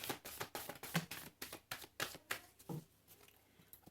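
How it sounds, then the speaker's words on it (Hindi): Tarot cards shuffled by hand in a fast run of crisp riffling flicks that slows and softens toward the end, close and quiet, with no talking. "this is my last shuffle"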